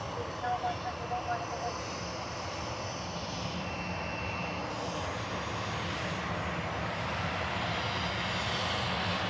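An EasyJet airliner departs Manchester Airport with a loud, steady engine roar that swells and holds for the whole stretch, broadband and close, with a person talking over it at times.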